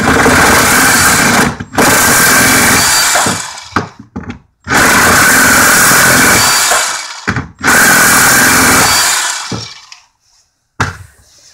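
A Milwaukee M18 Hackzall reciprocating saw cuts 1/2-inch copper pipe braced against a bench, loud and close, running in three long sustained bursts separated by brief stops, with a few knocks and silence at the end.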